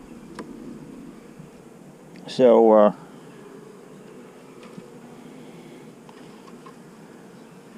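Honey bees, both dark and yellow, crawl over a salvaged hive frame with a little nectar on it, giving a faint, steady low buzz throughout while a voice briefly speaks near the middle.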